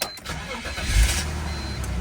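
A car engine cranks and fires up, settling into a steady idle with a low rumble close by.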